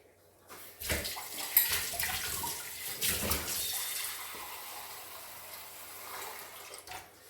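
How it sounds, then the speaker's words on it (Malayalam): Water pours into a pot of rasam in a home kitchen, a steady splashing rush that starts after a moment and gradually settles. "നമ്മൾ കുറച്ചുകൂടെ വെള്ളം ഒഴിച്ച് കൊടുക്കുക"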